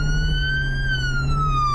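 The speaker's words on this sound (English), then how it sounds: "let's kill the siren" Police car siren in the Flashing Lights game, a loud, close, steady wail whose pitch rises and then slowly falls over a low engine hum, heard alone without talk.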